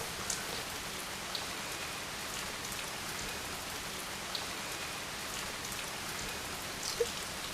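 Steady hiss of a sprinkler spraying water like rain onto a sloped concrete slab, an even patter with a few scattered drop sounds, no voices.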